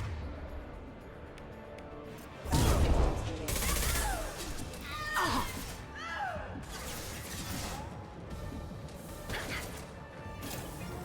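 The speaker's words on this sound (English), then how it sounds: "Warning, hostile forces, non-standard ammunition. Taking fire." Gunfire and crashing impacts in the video game Mass Effect Legendary Edition, a loud burst of shots and smashes that settles into sustained combat noise, with game voices over it.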